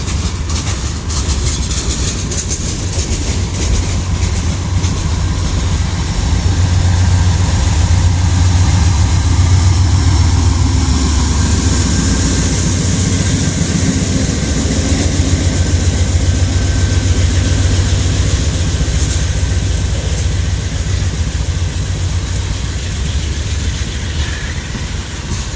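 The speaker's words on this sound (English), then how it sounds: "Massive train." A long Norfolk Southern freight train rolls past close by on the Harrisburg Division, a loud sustained rumble of rail cars and wheels with a steady engine drone and faint rhythmic clatter, no voices.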